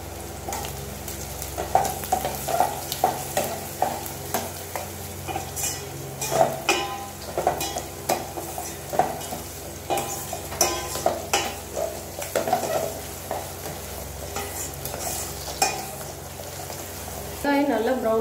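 Vegetables sautéing in hot oil for Tamil fish kuzhambu with vadagam seasoning, a steady sizzle broken by repeated scrapes and stirs of a spoon against the pan, close and continuous for the whole stretch.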